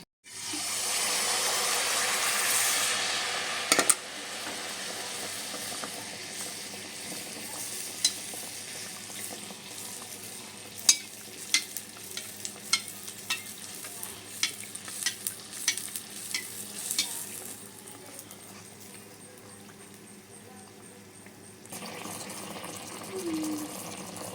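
Palm fruit malpua batter frying in plenty of hot oil in a wok, a steady bubbling sizzle at first, then lighter crackles and spatters close by, with no talk.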